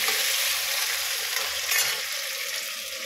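Vegetables for a potato curry fry in a pan with a loud, continuous, close sizzle, with faint stirring underneath.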